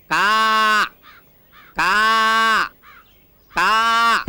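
Crows caw in a Telugu comedy film scene, three long, loud, harsh calls evenly spaced about two seconds apart, with faint short squawks in the gaps.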